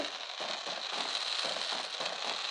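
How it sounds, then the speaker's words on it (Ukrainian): Spiral fireworks burst at night in a fireworks video game, a steady dense crackling and popping that runs without a break, with no voices over it. "Це найліпші салютики я бачив в світі!"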